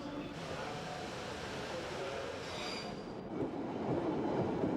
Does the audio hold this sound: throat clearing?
no